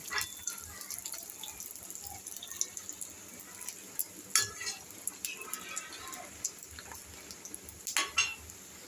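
Puchka made from wheat flour frying in hot oil to a deep red, a soft continuous sizzle broken by clinks of a metal utensil against the pan.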